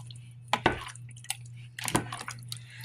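Sauce is folded into cheesy gnocchi in a bowl, giving a few soft wet squishes and sticky drips over a low steady hum, with no talking.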